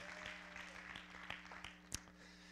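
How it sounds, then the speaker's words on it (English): A church congregation clapping in praise, sparse scattered claps rather than full applause, fairly faint, with a few sharper individual claps standing out. "Can we just give the Lord a clap and a shout for praise you"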